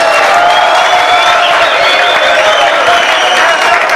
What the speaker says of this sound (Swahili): Tupigieni bishop wetu makofi mazuri